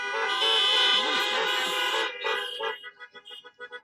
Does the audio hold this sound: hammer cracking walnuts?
no